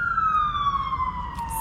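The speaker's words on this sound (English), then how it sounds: "Sorry, the sirens." A wailing emergency vehicle siren sweeps slowly downward in pitch as it passes on a street, loud and continuous over low traffic rumble.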